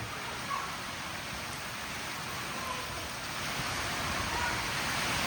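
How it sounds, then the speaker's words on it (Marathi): Heavy first-season rain pours down in a village during a cloudburst. It makes a dense, steady hiss that stays loud and even for the whole stretch, with no voices. "पाऊस बिन तेवढा पडतो जाम"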